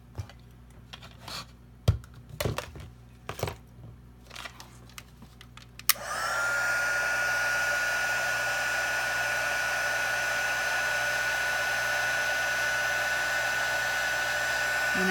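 A heat tool used to melt embossing powder switches on and roars with a steady, loud blowing hiss and a high whine, preceded by a few light clicks and handling taps.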